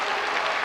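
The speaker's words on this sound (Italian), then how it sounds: "Applausi convintissimi all'indirizzo di Jan Lockhart." A basketball crowd in an Italian Serie A arena applauds in a dense, sustained burst of clapping with no pauses.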